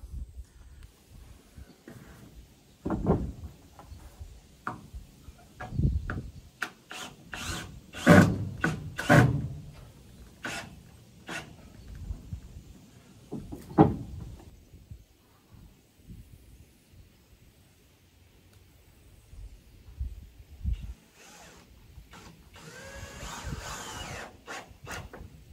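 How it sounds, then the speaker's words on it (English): Screws being driven into wooden barn beams, bursts of a power driver whirring and biting into the wood, separated by pauses, knocks and handling noises, fairly close. "Right now I'm just putting in a couple of screws on each side."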